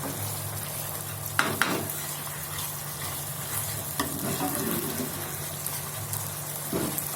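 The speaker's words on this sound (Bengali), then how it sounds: "এগুলো নেড়ে নেবে যাতে না ধরে।" Spice paste with turmeric, capsicum and green chilli frying in a pan, stirred steadily: a close, continuous sizzle with scraping strokes and a couple of sharper clinks.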